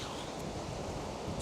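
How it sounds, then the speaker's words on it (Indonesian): Strong wind roars outdoors in a village, a dense, continuous buffeting rush across the microphone with no pauses, close and loud, and no voices. "Anginnya kenceng banget ya. Ini berangin"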